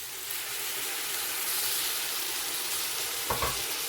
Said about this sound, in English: now I'm adding some tomatoes